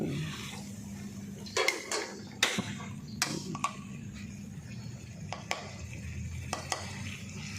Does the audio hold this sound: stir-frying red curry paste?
yes